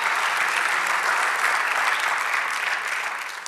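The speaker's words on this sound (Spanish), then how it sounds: "Dale un aplauso a nuestro Dios" A church congregation applauds during a sermon, a full steady roar of clapping that fades slightly toward the end, with no talk over it.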